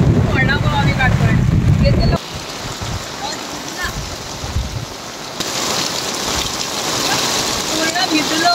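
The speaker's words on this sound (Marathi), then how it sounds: "जोराचा पाऊस आहे." Heavy rain and gusting wind batter an open farm field, a loud steady wash of rain with wind rumble buffeting close by, while people talk briefly at the start.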